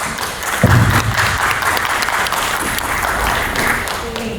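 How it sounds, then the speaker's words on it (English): Audience at a panel on Latinas of influence bursts into applause, a dense clapping crowd heard close and sustained for several seconds, with faint voices mixed in. "Big round of applause that we made it."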